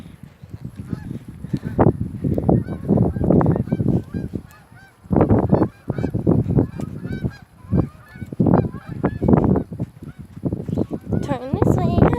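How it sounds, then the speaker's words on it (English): Several geese honk loudly at close range in repeated bursts of overlapping calls with brief pauses between, heard outdoors on a walk. "Geese."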